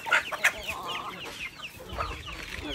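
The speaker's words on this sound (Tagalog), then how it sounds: "Kaya mabilis dumami yung mga native chicken natin." Native chickens cluck and squawk in a quiet, cool farmyard under mango trees, several birds calling in short bursts at close range with no talking.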